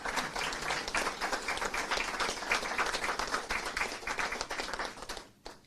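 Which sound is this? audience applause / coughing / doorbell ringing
audience applause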